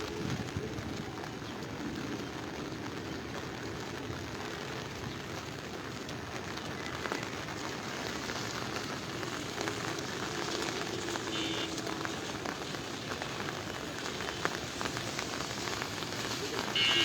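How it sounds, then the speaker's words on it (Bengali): Steady rain falls beside a flooded Gomti river in Comilla, a dense continuous hiss close by with no breaks, under faint background sounds. "দেখেন এখনো বৃষ্টি হচ্ছে,"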